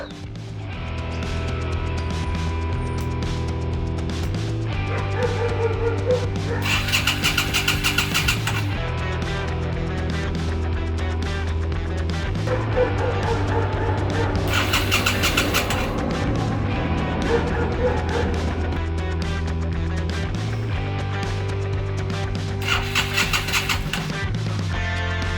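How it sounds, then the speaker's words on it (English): A custom-built motorcycle engine turning over and firing, loud and close, with steady low mechanical rumble and several bursts of revving throughout, no voices. "my first attempt to start engine failed."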